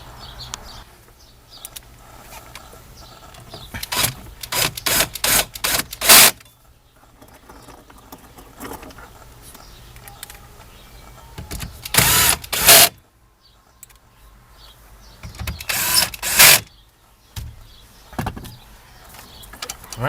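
Screws are driven in while a GPS navigation radio is installed in a Ford Explorer dashboard, with several short bursts of loud whirring from a power driver separated by quiet pauses and light handling clicks.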